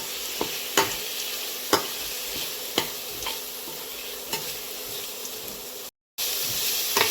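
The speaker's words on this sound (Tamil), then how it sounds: "ஆனியன், பச்சை மிளகா, கறி லீவ்ஸ் போட்டு லைட்டாக சால்ட்டு போட்டு நல்லா சாட்டே பண்ணிக்கோங்க" Onion, green chili and curry leaves sauté in hot oil for chicken varuval, with a steady sizzle under periodic sharp scrapes and clinks of a spoon stirring the pan.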